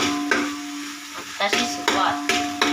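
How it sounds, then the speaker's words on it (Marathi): Sizzling of chicken frying in tempering oil in a hot pan, with repeated scraping knocks of a spoon stirring, close and fairly loud, over a faint steady hum. "चिकन फोडणीला टाकायचं"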